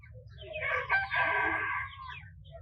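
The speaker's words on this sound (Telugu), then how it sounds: "కోడి పేరు ప్యారెట్ పీక్ లాంగ్ టైల్ అంట." A heavy Parrot Beak Long Tail fighting-breed rooster at a Sunday market, crowing once loudly and close in a single drawn-out call, alone without talk.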